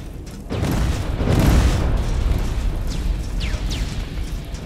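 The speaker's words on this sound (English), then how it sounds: "A lot of explosions on the way out." Explosions in the video game Terminator Resistance, a heavy booming blast swelling loudly and rumbling on, with debris and mechanical crackles trailing behind.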